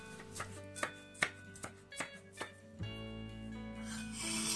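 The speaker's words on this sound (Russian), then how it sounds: "Сладкий перец нарезаем помельче." A knife finely chops sweet bell pepper on a board, about eight crisp, evenly spaced cuts close up, followed by a softer scraping sound.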